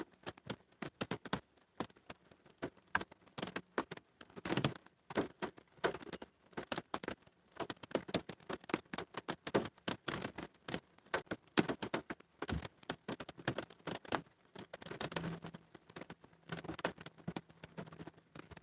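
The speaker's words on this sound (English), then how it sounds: "I don't know if y'all can hear the rain." Rain patters steadily and softly outdoors, a dense, irregular spatter of light drops with no voices over it.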